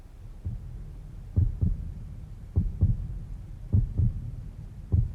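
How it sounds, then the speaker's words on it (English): Heartbeat sound effect from the video game 428: Shibuya Scramble, a steady low double thump repeating about four times, clear and alone. "she could feel a heartbeat steady and strong."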